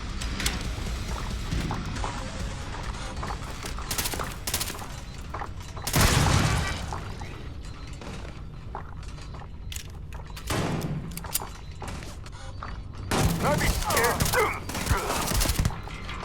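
Turrets in the sci-fi game Starfield fire sustained, noisy bursts that swell and fade, with a heavy blast roughly midway and another loud stretch near the end.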